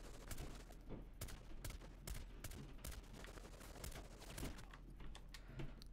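Rapid, dense gunfire from a Rainbow Six Siege match, many close shots in quick bursts hammering a wall, repeating steadily throughout.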